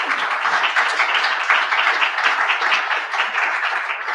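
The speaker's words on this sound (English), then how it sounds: "Can we have one more round of applause for Professor Sutter" An audience applauds the professors at the close of a panel discussion on U.S.-China relations, a dense, steady round of clapping that fills the whole stretch without any voices.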